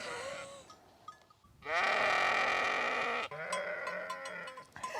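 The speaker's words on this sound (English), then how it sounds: "The sheep here have been really, really noisy." Sheep in Norway bleat loudly and close by, one long strained call in the middle flanked by shorter, hoarse bleats before and after.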